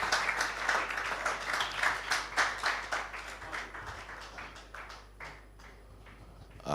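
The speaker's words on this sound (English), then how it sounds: "Oh, be generous with your applause." Audience applause at the Falling Walls Lab Ghana 2023 event, a steady wash of many hands clapping that swells and then thins out toward the end, heard alone without talk.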